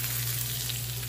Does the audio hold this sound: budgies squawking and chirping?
no